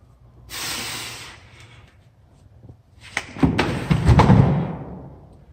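A strongman heaves a heavy atlas stone of about 300 pounds up onto a high loading platform, with sharp breaths and snorts, then a loud thud and scraping as the stone lands, close and forceful.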